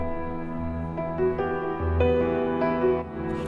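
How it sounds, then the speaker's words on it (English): Two layered piano tracks blended together in a song, playing sustained chords with a few brighter notes struck on top, full and steady without voices. "So when you combine the two pianos at the correct volume levels"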